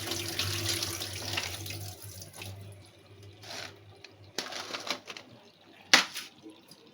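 Tap water runs over crab claws and legs being washed by hand in a sink, a steady splashing stream broken by louder splashes and clatters near the end.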